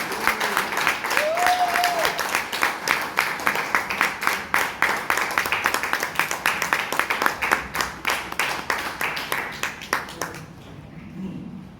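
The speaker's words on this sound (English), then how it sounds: "please give a big round of applause for today's TMOD Toastmaster Smitha Thomas" A Toastmasters meeting audience in Bangalore claps for the incoming Toastmaster, a lively, close round of individual claps that runs for about ten seconds, then stops abruptly and leaves near silence.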